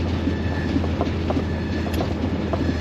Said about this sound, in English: Not picking up third, and it's still making a bad whining noise.